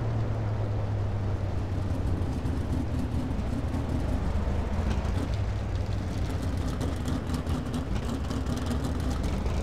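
A dirt racing car engine at full throttle on a slick track in iRacing, a loud continuous drone that holds steady and close throughout.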